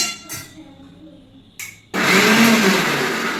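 After a couple of brief clicks and taps, a kitchen mixer grinder whirs to life loudly and spins steadily for over a second, grinding ingredients close by.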